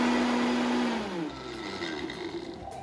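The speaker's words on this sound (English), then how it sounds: "So we're gonna put this in and we're gonna blend it." Blender whirring as it purées melted cheese, a steady loud drone that starts with a high motor whine, then drops in pitch and settles into a rougher churning as the load thickens.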